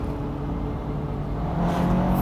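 A 2009 Honda S2000 CR's engine revs steadily and climbs in pitch toward VTEC, loud and close with no voices.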